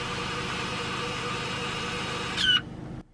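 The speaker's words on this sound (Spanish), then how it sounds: "Ahora el coche está regresando a su posición original, lo cual va acompañado de otro ruido extraño" A Ferrari Enzo's lift system lowers the car with a steady mechanical hum over low engine idle, ending in a brief rising whine before the noise cuts off.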